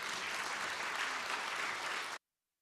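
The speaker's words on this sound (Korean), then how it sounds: "우리 강사님 앞으로 나오실 때에 큰 박수와 격려로 소개했으면 좋겠습니다" A church congregation at a Wednesday evening service applauds to welcome a seminar speaker forward, a steady, dense wash of clapping that holds evenly for about two seconds and then cuts off abruptly.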